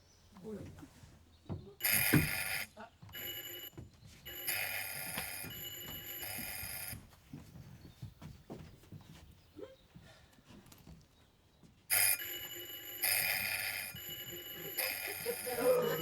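A telephone-like bell rings on stage during a theatre play, coming in loud repeated bursts separated by stretches of actors talking.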